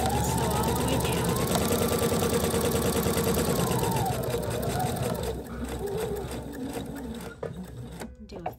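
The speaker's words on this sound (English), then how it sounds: "Sew all the way down." A sewing machine sews a long straight seam with a backstitch down the side of a lined, box-bottom drawstring bag, humming steadily and close up, then easing off into a few lighter stitches near the end.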